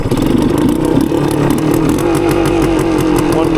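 A 1980 Suzuki TS185 motorcycle engine running and revving loudly up close, a rough buzzing two-stroke note that rises and holds steady without pauses.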